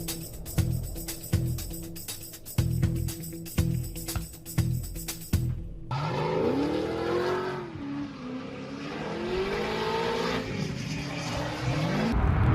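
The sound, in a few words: supercharged LSX-engined drift car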